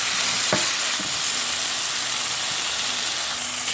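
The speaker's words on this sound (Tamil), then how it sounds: "ஸோ சிம்மில் போட்டு நல்லா டீப் ஃப்ரை பண்ணுங்க." Cauliflower curry deep-frying in oil on a low flame, a steady even sizzle throughout with a few faint utensil taps near the start.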